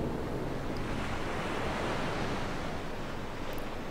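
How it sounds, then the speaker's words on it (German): Wind and ocean waves around a ghost ship at sea in the video game Dark Souls 2, a constant loud rushing wash of surf and gusting air with no talking. "Wo kommt der Wind her?"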